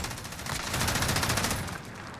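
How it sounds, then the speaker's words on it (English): An MG34 machine gun with the Rockwall blueprint firing in Call of Duty Modern Warfare: one loud, continuous burst of very rapid shots lasting about two seconds, close and dense. "the MG34, as far as reliability, was a better all-around machine gun for the German army"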